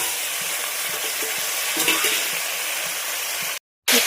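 Vegetables and tomato frying in oil for vegetable pulao give a steady, close sizzle, with faint stirring knocks scattered through it and a brief dropout near the end.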